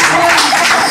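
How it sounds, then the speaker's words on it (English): Sustained round of applause from a live audience for Miss Abigail during a presidential candidate debate event, dense and steady clapping throughout, loud and close with no pauses. "please let's continue round of applause to Miss Abigail"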